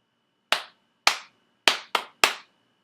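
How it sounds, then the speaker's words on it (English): A kindergarten class claps its special signal: five sharp, loud hand claps in a quick patterned rhythm, two spaced beats then three faster ones, each ringing briefly in a quiet room with no talking. "Clap, clap, clap, clap, clap."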